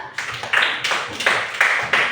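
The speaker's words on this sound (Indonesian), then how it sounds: "Oke, tepuk tangan buat kelompok 2." Students in a classroom applaud a presenting group with a short run of loud, separate claps in an uneven rhythm, close by and not masked by speech.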